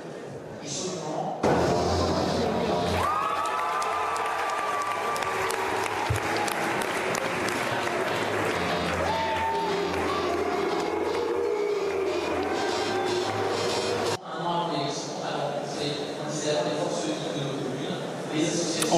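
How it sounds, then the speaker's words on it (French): Party activists at a French political rally react from the crowd with loud applause and jeers, a dense roar of clapping, shouts and booing that runs nearly nonstop and briefly drops off before swelling again. "On l'a entendu, Loïc Besson, des huées, notamment pour Xavier Bertrand et pour Valérie Pécresse."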